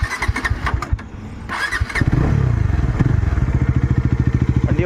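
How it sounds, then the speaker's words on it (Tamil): A 2024 Bajaj Dominar 400 motorcycle is cranked a few times, then its engine catches and settles into a loud, steady, close idle thump. "வண்டி ஸ்டார்ட் பண்ணுறேன்."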